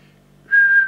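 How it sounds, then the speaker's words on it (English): A short, steady high-pitched whistle into a Grandstand Gemini CB radio begins abruptly over a low constant hum and holds for about half a second. "Check with the whistle test again."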